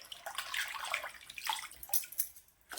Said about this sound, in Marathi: हा सगळा हाताने असं स्वच्छ धुवून घ्यायचं आणि परत यामध्ये घालून घ्यायचं